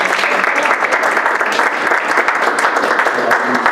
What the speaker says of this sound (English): So if we could give Dan a round of applause and thank him.